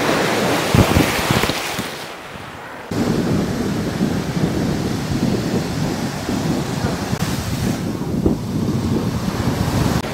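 Strong sea waves surging at a Visakhapatnam beach near a natural arch, loud continuous roaring surf with heavy crashing bursts and wind, up close.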